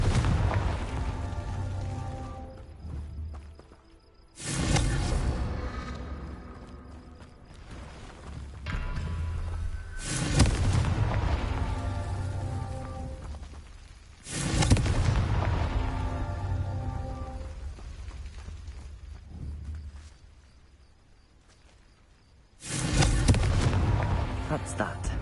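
Repeated booming blasts from the Confringo spell in a Harry Potter video game, four or five loud explosive bursts spaced a few seconds apart, each decaying into a rumbling tail with quieter stretches between.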